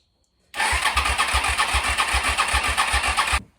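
A Suzuki SV650 motorcycle engine cranks on the starter after sitting six years, a steady rhythmic churning pulse lasting about three seconds, loud and close, then cutting off without catching.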